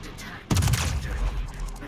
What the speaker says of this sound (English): Gonna get a few shots off of that battleship there